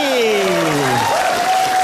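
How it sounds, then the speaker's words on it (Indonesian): Studio audience at an Indonesian television education discussion show breaks into dense, steady applause, with bright sweeping musical tones layered over the clapping throughout. "Tepuk tangan."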